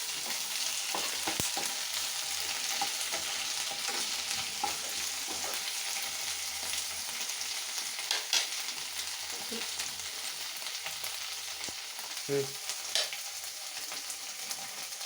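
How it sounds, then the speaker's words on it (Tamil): Curry leaves frying in a pan, giving a continuous crackling hiss with scattered soft pops and occasional stirring knocks, steady and fairly quiet with no speech. "இதை கொஞ்சம் கொஞ்சமாக சேர்த்து ஃப்ரை பண்ணிக்கலாம்."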